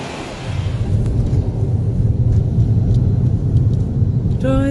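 A car drives down the Las Vegas Strip, giving a steady low rumble of road and engine noise from inside the vehicle, loud and continuous, with a brief faint voice near the start.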